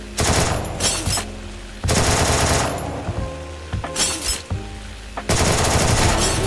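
Loud automatic gunfire in a shooting video game, several long rapid-fire bursts separated by short pauses, close and dominant with no voices over it.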